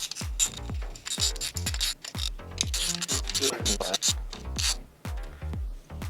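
Mounting hardware for fog lights on a 2021 Bronco First Edition is tightened with a hand tool, producing a close, rapid series of rhythmic ratcheting scrapes, with no talk.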